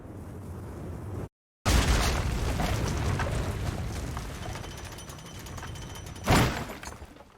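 A drawbridge drops in the Kingdom Come video game: a loud, heavy rumbling crash breaks in after a short silence, roars on and fades, then a second sharp impact lands near the end.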